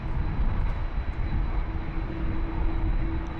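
Qantas Airbus A330 airliner at Sydney Airport, a steady loud roar of aircraft engines heard nearby, with a faint tonal hum running underneath throughout.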